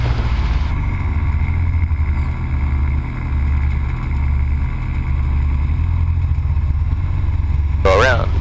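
A Cessna light aircraft's engine drones loudly and steadily at takeoff on a runway, a constant low rumble filling the cabin for the whole stretch, with a brief squeal near the end.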